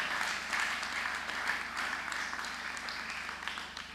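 A church congregation applauds to acclaim the Lord, with a steady wash of clapping held at moderate level and heard a little way off, while a faint voice murmurs underneath.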